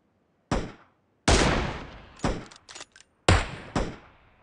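Gunfire in the mobile battle royale game PUBG Mobile: several sharp, loud shots and short bursts separated by silences, each with a quick decaying tail, no talking.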